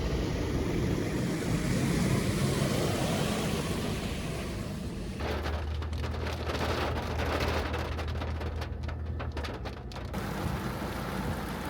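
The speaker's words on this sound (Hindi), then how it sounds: "दोबारा बारिश भी शुरू हो गई थी" Steady rain hisses down outdoors in Lahore during muddy off-road driving, a dense wash of noise that continues throughout, with a low rumble joining partway through.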